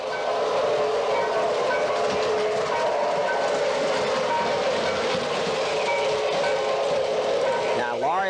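The Union Pacific 49er train pulls into the station with a loud, continuous rumble and hiss of wheels and steam, clattering steadily close by before easing near the end.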